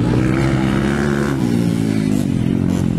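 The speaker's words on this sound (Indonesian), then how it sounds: "kaubo-ubo ng motor nga gidala ni Eloy" Enduro motorcycle engine revving near and loud during a race, its uneven, sputtering drone falling in pitch partway through the short burst.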